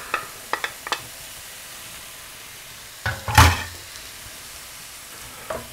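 Fresh tomatoes going into a pan of sweated, translucent onions, then stirred: a steady soft sizzle with a few light clicks of a utensil, and a louder scraping, splashing burst midway as the mixture is turned over.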